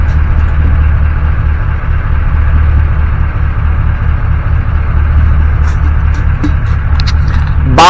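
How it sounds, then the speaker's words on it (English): Semi-truck bobtail with a straight six Cummins engine idling in a repair shop, a steady low rumbling drone throughout, with a few faint clicks and a sharp hiss near the end. "semi-truck bobtail."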